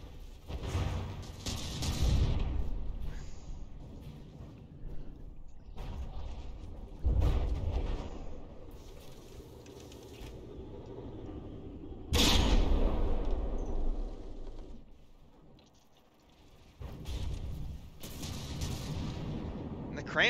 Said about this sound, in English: Sudenica's missile barrage doesn't really do a whole lot of damage to the blue scribes